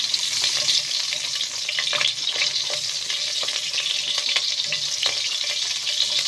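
Oil and a knob of country butter sizzle in a pot before rice goes in, a dense, continuous hiss with scattered crackling pops throughout.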